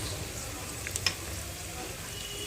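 Spice powder frying in a pan for vegetable khichuri, a soft steady sizzle with a couple of faint clicks near the middle, fairly quiet throughout.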